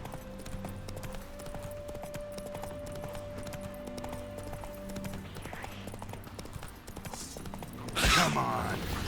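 Roach the horse running in The Witcher 3, with steady rhythmic hoofbeats under game music and ambience, then a brief loud burst near the end.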